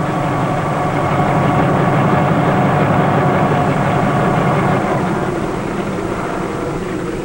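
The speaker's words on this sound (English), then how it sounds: "the helicopter, which can land in any area big enough for its whirling rotor" A helicopter's whirling rotor and engine drone in a continuous heavy roar, loud and sustained throughout with a slight fade toward the end.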